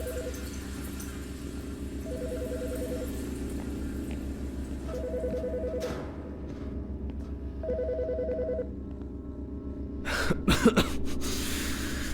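A telephone in the Autopsy Simulator video game rings in repeated electronic trills over a low, steady background hum, followed by a few coughs and clattering noises near the end.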